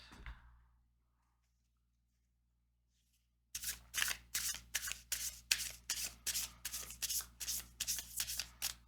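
A tarot deck is riffled in a rapid, even series of about a dozen crisp, close shuffles, after a soft rustle and a stretch of near silence.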